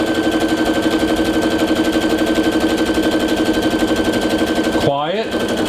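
A Brother SE625 sewing machine runs a basic stitch under foot-pedal control, with a loud, close, fast and steady mechanical chatter. It stops near the end with a short falling whir.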